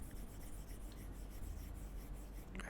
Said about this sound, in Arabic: هتحس ان في صوت كده كأنك بتكتب بقلم بجد